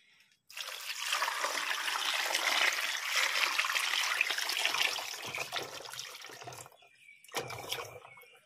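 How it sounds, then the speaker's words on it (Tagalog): Unheated water pours steadily and close into a container of eggs being prepared as salted eggs, a continuous splashing gush lasting several seconds, then a brief second pour after a short pause. "Ibuhos na natin yung ating tubig."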